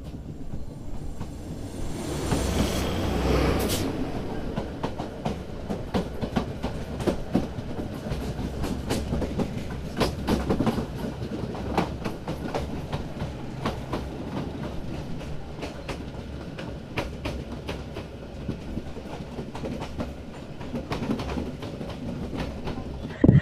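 A train runs near Maharajpur railway station, giving a steady, close rumble with rhythmic clickety-clack of wheels over rail joints and a louder surge early on, with no voices.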